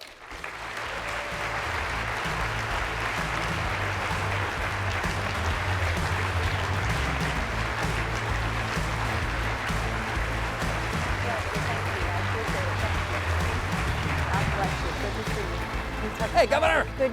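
A conference audience gives Ambassador Nikki Haley sustained applause as she is welcomed to the stage, dense clapping with scattered cheers that holds steady and loud for the full length and rises slightly near the end.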